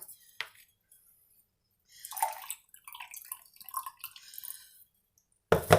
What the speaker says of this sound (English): I'm going to give her some water.